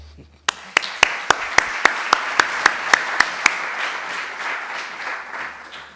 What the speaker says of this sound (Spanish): muchas gracias y otro aplauso